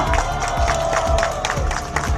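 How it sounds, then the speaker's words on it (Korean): Steady, dense applause and crowd noise from an audience welcoming a speaker at a public gathering in Seoul, loud and continuous throughout. "박수 부탁드리겠습니다."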